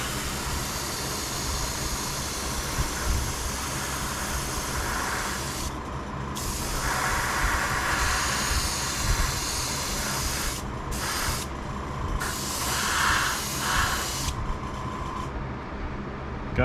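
An airbrush spray gun applies a heavy coat of paint to an O scale Divco milk truck model, giving a steady close hiss with a few brief pauses between passes.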